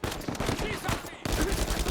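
Gunfire from Uncharted 4 rattles in fast, close bursts, a brief break splitting two dense stretches of automatic shots, with a voice faintly mixed in.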